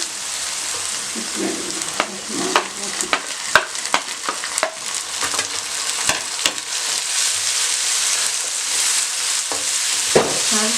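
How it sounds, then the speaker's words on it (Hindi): Tomatoes sizzle and spatter steadily in a hot pan with golden-fried onion and garlic paste, with occasional scraping stirs and sharp pops throughout. "चंद सेकंड के लिए मैंने टमाटर डाल के भी फ्राई किया।"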